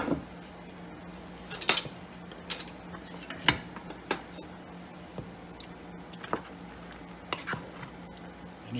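Pasta being stirred with sauce in a pan for baked bacon mac and cheese, giving scattered clinks and scrapes of a utensil against the pan at an uneven rhythm, close and moderately quiet.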